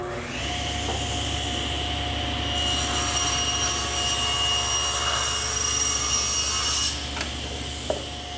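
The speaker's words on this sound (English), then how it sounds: "I've set up the saw 3/4 of an inch away from the fence and about 1/4 of an inch deep." Table saw cutting a tongue for a breadboard edge on a bedside table, blade set a quarter inch deep: a steady motor hum, then a louder whining cut for several seconds before it drops back with a faint knock.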